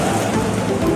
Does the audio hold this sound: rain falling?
yes